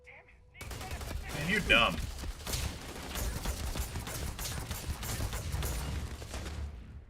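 Rapid gunfire from a firefight in the game Starfield, a dense volley of shots crackling continuously over a low rumble, with someone speaking briefly near the start.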